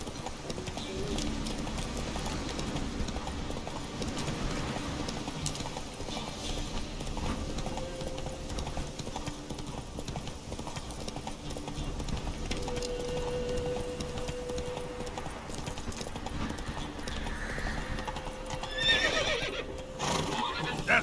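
Geralt's horse Roach in The Witcher 3 gallops with steady clip-clop hoofbeats and whinnies over continuous game ambience, sustained throughout with a louder burst near the end.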